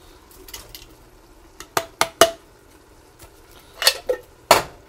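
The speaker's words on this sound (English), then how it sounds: "I'll stir that." Food is stirred in a pot of chili, with several sharp metallic clinks and scrapes of a utensil against the pot. They come in irregular clusters over a faint steady background, with no voices.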